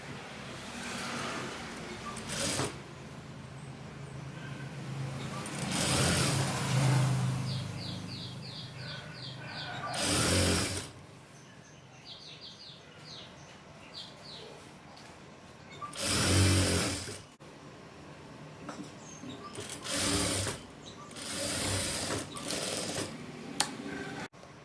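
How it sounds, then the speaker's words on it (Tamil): Domestic sewing machine stitching fabric for frills at a tailoring workbench, running in several short bursts of rapid mechanical whirring with quiet pauses between, fairly close, with faint background noise. "இந்த துணி ஃபுல்லுமே இப்போ தையல் போட்டுட்டோம்"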